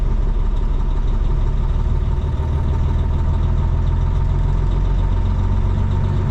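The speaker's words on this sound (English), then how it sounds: "I just let her sit here for a little bit on fast idle" A car engine holds a steady fast idle, its low, even rumble continuous and close throughout with no other sounds.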